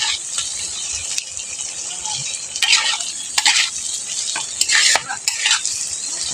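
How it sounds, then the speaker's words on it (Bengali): Fried potatoes are stirred into spice masala in a hot pan, with loud, close scraping strokes coming in irregular bursts over a constant sizzle, and no one speaking. "আলুর সাথে এখন আমি এই মশলাটাকে কষিয়ে নেব"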